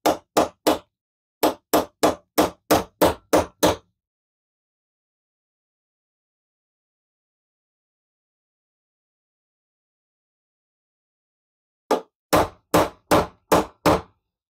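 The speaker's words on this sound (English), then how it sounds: "Big hammer for this." Heavy hammer blows punching parts out of a Caterpillar D2 cylinder head, two quick runs of sharp metallic strikes separated by a long silence, close and loud with no talking.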